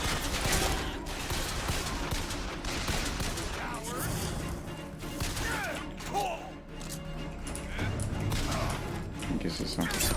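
Rapid bursts of gunfire from the video game Bioshock, with dense, continuous shots and mechanical clatter running through the whole stretch at a loud, steady level.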